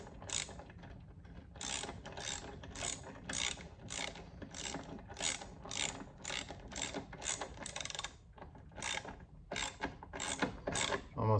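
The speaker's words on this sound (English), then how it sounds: "You have a nice view of my ratchet, sorry about that, but bolting this guy in." A hand ratchet clicks quickly and steadily while bolting a hoist mount onto an i-beam for a Vevor 800lb electric shop hoist. The close, faint ratcheting runs almost without a break, pausing only briefly.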